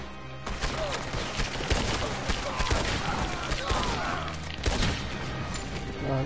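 Gunfire rattles through a Red Dead Redemption 2 shootout, a dense, sustained volley of shots and booms layered with crashes and voices talking over the fray.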